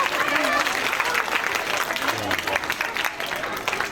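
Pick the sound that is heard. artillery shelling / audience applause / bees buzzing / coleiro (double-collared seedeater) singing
audience applause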